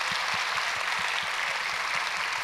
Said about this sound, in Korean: 우리 그런 의미에서 우리 박수를 한번 세게 해봐요.